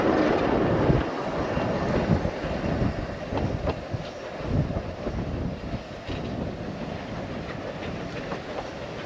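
Isle of Man steam railway train running, a continuous rumbling roll with rhythmic clattering of wheels on track, loud and close throughout, with no talking.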